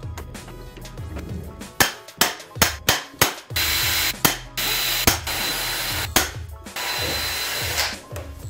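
Rivet tool fastening a rear bumper diffuser onto an EF Civic, a series of sharp, close mechanical snaps and clicks in an irregular rhythm, some rapid bursts, with quiet handling noise between.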